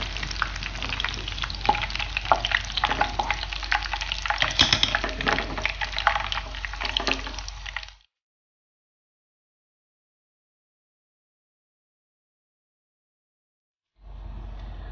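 Raisins frying in hot oil for a green chicken biryani, a dense, steady sizzle and crackle for about eight seconds, then silence before the frying noise returns at the end.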